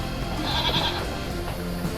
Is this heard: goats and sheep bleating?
yes